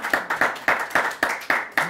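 A church congregation claps in a quick, even rhythm to acclaim the Lord during a service, about seven sharp claps in under two seconds, close and crisp with no talking.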